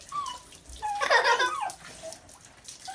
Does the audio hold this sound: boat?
no